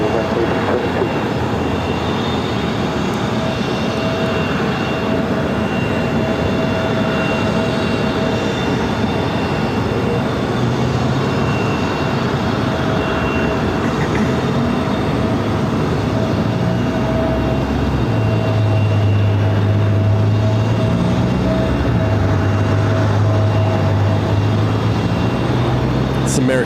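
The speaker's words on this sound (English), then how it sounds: "American Airlines flight 1015 coming in from Dallas on an A321neo." An American Airlines Airbus A321neo arriving from Dallas at Phoenix airport produces a loud, steady engine roar that swells toward the end, with a person talking over it.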